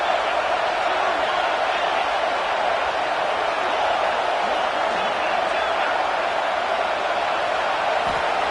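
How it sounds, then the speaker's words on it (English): A football stadium crowd makes a steady, continuous roar that stays at an even, full level throughout, like a wall of distant noise filling the space. "This crowd bringing the energy and noise early."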